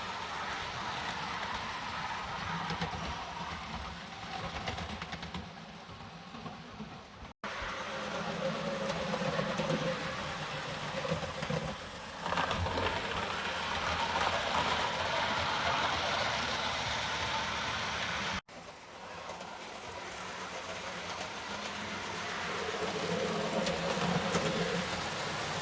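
An old Hornby HST 125 model train with a replacement motor runs on DCC track, giving a steady, close mechanical whir and rumble that continues through the whole stretch with slight rises and dips.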